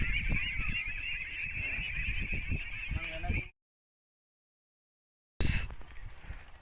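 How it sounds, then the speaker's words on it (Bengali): A new breed of duck on a haor-region farm gives loud, close, continuous honking calls, then silence falls before another short, sharp honk bursts out. "আপনারা এখন দেখতেছেন একটা হাঁস।"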